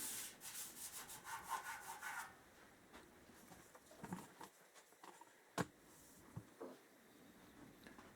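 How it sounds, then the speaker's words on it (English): Rubbing down body filler on a 1977 Kawasaki KZ650 B1 fuel tank, heard as quick repeated abrasive rubbing strokes close by, then softer intermittent scuffs and taps. "I'm still going to obviously give this a rub down just to smooth out this filler area"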